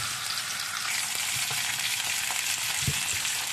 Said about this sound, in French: je vais faire cuire les boulettes. Et je vais faire cuire la surface